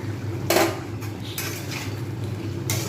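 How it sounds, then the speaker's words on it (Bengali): Spoon scraping and clinking in a pan of sweet pumpkin and potato chhokka as ghee is stirred through, a few sharp metallic knocks over a low steady hum. "ভালোভাবে নেড়ে দিলাম"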